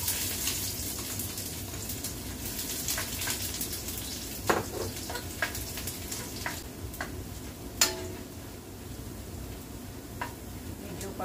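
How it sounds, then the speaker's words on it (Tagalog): Garlic sautés in hot olive oil for Filipino fried rice, a soft steady sizzle with occasional stirring clicks and scrapes of a utensil against the pan, fairly quiet. "So, mainit na po yung ating mantika. Gigisa na natin yung ating bawang."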